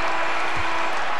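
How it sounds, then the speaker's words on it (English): A basketball arena crowd at a college game cheering and applauding, a dense, loud wash of noise that holds steady through a brief moment. "Listen to this crowd."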